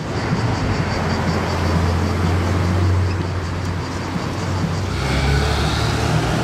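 A Ferrari 812 GTS drives by on a street in Monaco, a loud, close engine rumble holding steady and then shifting in tone near the end, with no clear talk.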